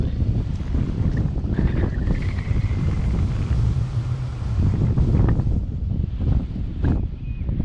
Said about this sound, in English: The wind's pushing hard on us this way.